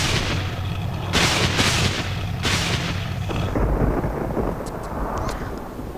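Thunder rolls and cracks with lightning in the video game Tomb Raider: The Last Revelation. Loud, broad rumbles swell in two heavy bursts over a continuous stormy roar, with no talking.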